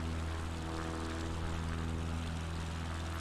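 Steady, loud propeller-engine drone of a light bush airplane in flight over Patagonia in Microsoft Flight Simulator 2020, with a constant low hum and layered harmonics held evenly throughout.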